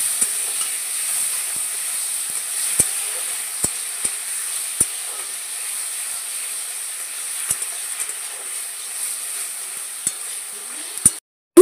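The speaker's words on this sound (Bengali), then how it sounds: "এই যে ঘষে রাখা সব মশলাগুলো দিয়ে দিচ্ছি তেলের মধ্যে" Cumin and ground spice paste sizzling in hot oil in a home kitchen pan, a steady bright hiss throughout with occasional sharp pops and spoon clicks, close and continuous, ending abruptly.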